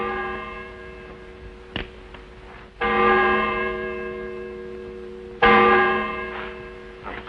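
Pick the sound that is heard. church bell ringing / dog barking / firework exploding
church bell ringing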